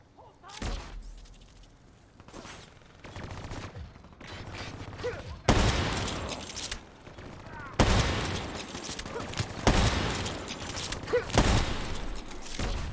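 Gunfire in the video game Call of Duty Black Ops 3, bursts of automatic shots and impacts, sparse at first then dense and loud, with game voices mixed in.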